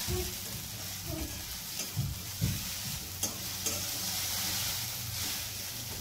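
Khichdi sautéed and stirred in a pan, with a steady sizzle and frying hiss throughout and a few soft scrapes and clinks of the spoon against the pan.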